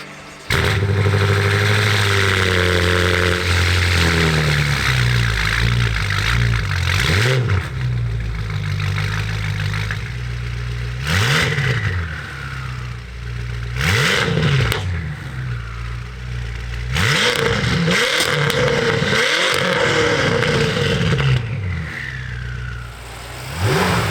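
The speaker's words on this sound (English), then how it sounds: "One of the coolest things about the twin turbocharged V8 is the sound." A 2012-2016 BMW F10 M5's twin-turbo V8 revs up repeatedly, deep exhaust roaring and rising in pitch, then falling back between blips, loud and close with no talking.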